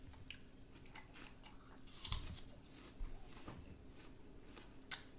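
Someone chewing an apple at lunch, soft wet crunches and bites recurring every second or so, close and quiet, with a couple of sharper crisp crunches standing out.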